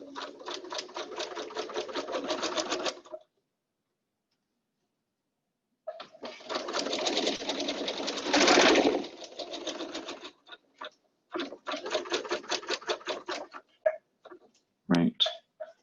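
A sewing machine stitches a DIY cloth mask in rapid, even bursts of clattering needle strokes, separated by pauses and a few short start-stop runs, loud and close.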